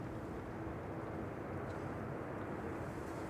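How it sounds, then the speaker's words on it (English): A Ryanair airliner touches down at a gusty Manchester Airport on arrival from Alicante, a faint, even, distant rumble of jet noise with no distinct peaks. "Ryanair just touching down here."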